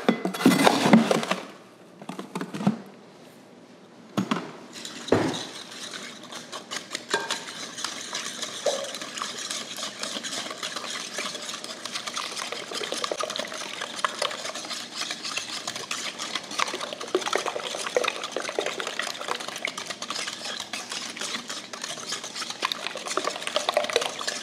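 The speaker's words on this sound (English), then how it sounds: "I'm gonna go ahead and whisk in the sugar now." A whisk clinks and swishes rapidly against a bowl as sugar is beaten into a quick bread batter, starting with a few sharp knocks and then settling into a steady, close, rhythmic scraping.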